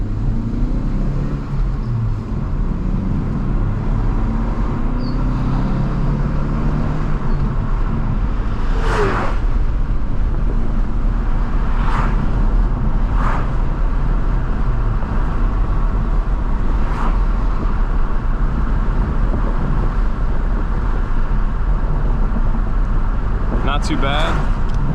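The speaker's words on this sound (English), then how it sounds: "Pulling up a hill right now, being easy on the clutch, making sure not to slip it too much." An 11th-gen Honda Civic Hatchback with manual clutch pulls a trailer uphill, its engine a steady low in-cabin drone with road rumble throughout, while someone talks over it.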